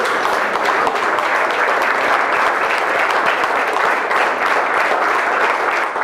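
A round of applause for Julie Quinton, owner of Quinton's SUPA IGA, a steady, loud, dense clapping from an audience sustained throughout without pause.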